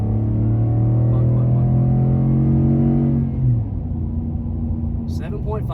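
An OZ Omega-tuned Ford F-150 pickup pulls hard in a 0-60 mph run, its loud droning engine note holding steady before dropping away, followed by a brief voice.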